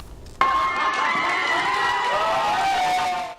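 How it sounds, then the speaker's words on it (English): Supporters of same-sex marriage cheer after the Supreme Court ruling, a dense crowd of overlapping shouts and whoops that bursts in abruptly and holds steady and loud before cutting off. "there was plenty of cheering among supporters of same-gender marriage after the Supreme Court's ruling"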